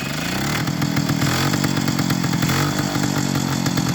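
A 1953 Peugeot 125 Type 55 motorcycle's small single-cylinder engine runs loud and close, revving up and down with a raspy, buzzing, chainsaw-like tone throughout.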